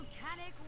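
A phone rings in The Sims 3 Seasons game, a short bright electronic trill with layered tones, heard briefly at close range.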